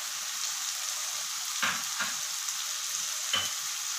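Potatoes go into sizzling masala for a soya keema. A loud, even frying hiss fills the whole stretch, and a few brief clunks and scrapes come as the pieces are added and stirred.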